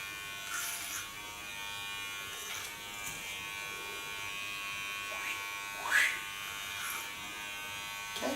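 An electric hair clipper buzzes steadily through a short-hair cut, its close motor hum broken by faint scraping sweeps as the blade passes through hair guided by a comb.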